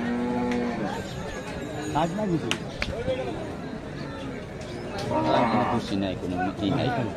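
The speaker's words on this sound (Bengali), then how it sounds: "আপনারা দেখতে পাচ্ছেন এগুলো বড় বড় সাইজের গরু" Large cattle at the Hazratpur cattle market, mooing lowly amid crowd babble while someone talks close by over the busy market din.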